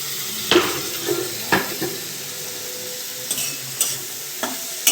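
Tomatoes sizzle softly in a spiced pan as a spoon stirs them, with sharp clinks and scrapes of utensil on metal at irregular intervals against the low, steady frying hiss.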